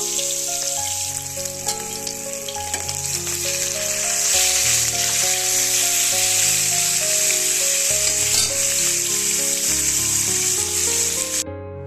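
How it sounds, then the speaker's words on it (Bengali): Mrigal fish pieces rubbed with salt and turmeric fry in hot oil, giving a steady, close sizzle that runs for the whole stretch beneath prominent background music. "তো আমি মাছটা ভাজা করে নিয়েছি, মাছটা ভাজা করে নেওয়া হয়ে গেছে।"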